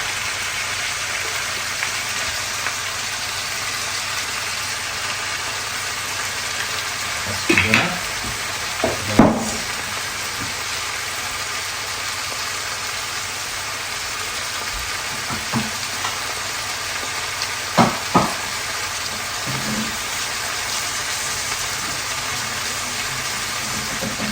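Vegetable bhaji with salt and turmeric frying in oil in a home kitchen, a steady sizzle throughout with a few louder clatters of stirring and utensil knocks scattered across it.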